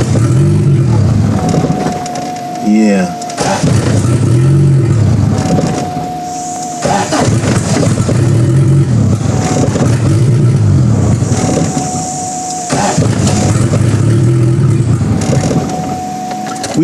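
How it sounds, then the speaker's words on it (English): A turbocharged Honda Civic EF engine running at 15 psi boost starts and settles into a loud, close idle with recurring rises and dips in engine note; a short spoken word is heard once. "So let's start the car up, let it warm up so we can do some testing."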